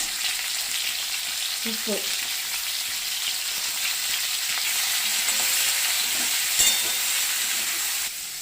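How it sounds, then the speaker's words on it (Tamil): Raw plantain frying in a pan with spluttered mustard seeds and turmeric, a loud continuous hissing sizzle with a few soft stirring knocks and a brief spoken word. "கடுகு வெடிச்சுட்டு கொஞ்சம் வாழைக்காய் அலம்பி போட்டோம்னா மஞ்சப்பொடி,"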